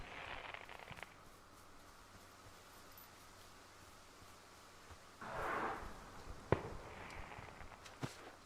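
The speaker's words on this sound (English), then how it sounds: "I don't know where the stupid fireworks were." Distant fireworks go off outdoors as several faint, scattered pops and bursts over quiet background noise, without any speech.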